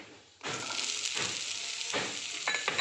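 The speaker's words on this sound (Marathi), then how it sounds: "तूप आता गरम झालं त्यात परत थोडंसे मी जिरे टाकून घेतो आणि सिमला मिर्च आपल्याला याच्यात भाजून घ्यायची आहे" Capsicum and cumin seeds hit hot ghee with a loud, steady sizzle that starts abruptly, with faint stirring scrapes pulsing through the frying; no one speaks.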